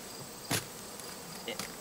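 Bees from a trapped swarm in a bait hive hum in a faint, steady drone close by, with a couple of soft knocks over the buzz.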